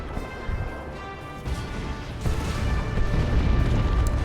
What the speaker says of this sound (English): And we've got Stick Bombers doing some long-range bombardment.